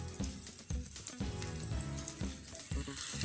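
Bangda (mackerel) fish frying in a pan of hot oil, a steady dense sizzle with recurring low thumps and clatter, close and fairly loud, no talking.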